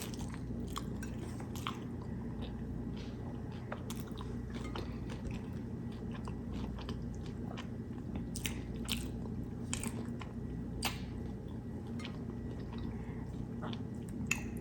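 Close, quiet chewing of homemade loaded crunchy tacos topped with hot salsa, with scattered crisp crunches and wet bites over a soft continuous background and no talking.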